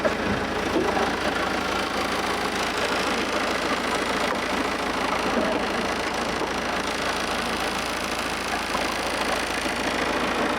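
A car engine idles steadily and close by, a continuous rough rumble with a faint mechanical ticking throughout.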